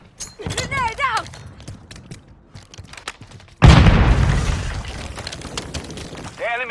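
Grenade explosion in the mobile shooter Warzone Mobile, a sudden loud boom with a long rumbling decay, preceded by voice radio chatter and scattered gunfire.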